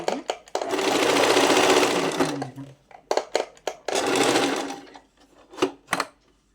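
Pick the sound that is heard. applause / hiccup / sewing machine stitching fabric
sewing machine stitching fabric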